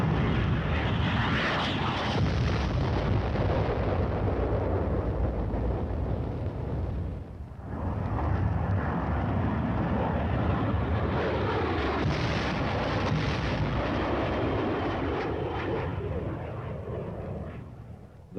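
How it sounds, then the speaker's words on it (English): Aircraft dropping napalm on enemy positions: a continuous loud roar of aircraft engines blended with rumbling, explosive fire, with a brief dip midway before the roar swells again. "The deadly napalm is dropped in a veritable blanket of destruction over the enemy's position."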